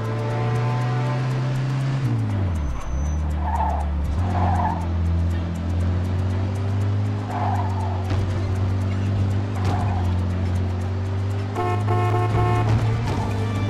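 A fast car in the video game Mafia 2 roars with a loud, steady engine drone, dipping briefly as it shifts, while tires squeal and skid through corners close up.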